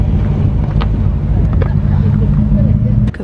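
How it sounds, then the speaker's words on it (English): Porsche 914 rear-engine car at a historic rally stage, a loud, steady low engine drone held close throughout with wind buffeting the microphone. "we have a very loud rear engine, of course, Porsche 914."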